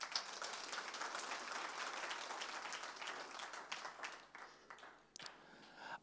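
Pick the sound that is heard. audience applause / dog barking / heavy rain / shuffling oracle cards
audience applause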